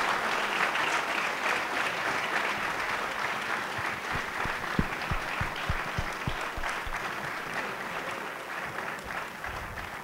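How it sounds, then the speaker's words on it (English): An audience claps steadily at a Holocaust survivor and liberator presentation, a dense, sustained round of applause lasting throughout with a few sharper individual claps standing out. "how about a round of applause for Ernie and Don?"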